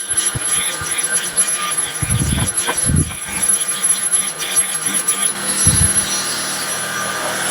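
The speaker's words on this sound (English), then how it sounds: "Here we got my outdoor carpet as well." A cordless vacuum running over an outdoor carpet, its steady motor whine continuous throughout, with a few low thumps as the head is pushed across the pile.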